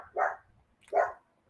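Two loud, sharp dog barks about three quarters of a second apart, close by, with silence between and after them.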